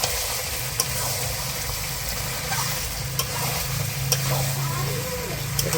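Village-style mutton curry sautés in oil in a covered pan, a loud steady sizzle with a low background hum and a few sharp clicks scattered throughout.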